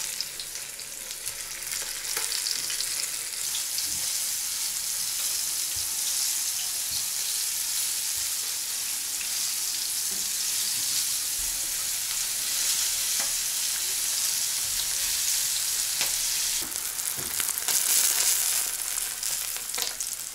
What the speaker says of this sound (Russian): И на сковородку, то есть нагреваем сковородку, нагреваем масло. И на среднем огне, не на большом, на среднем.